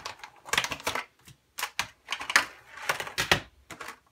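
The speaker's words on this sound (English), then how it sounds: "So let's take this out of its packaging." Laptop hard drive being unpacked from its packaging: irregular bursts of crinkling and rustling packaging, close and fairly loud, separated by short pauses.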